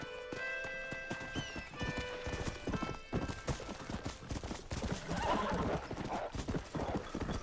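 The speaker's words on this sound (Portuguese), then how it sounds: "Cavalo!" Horse galloping in Red Dead Redemption, a steady run of clip-clop hoofbeats with a neigh near the start, loud and close throughout with no speech over it.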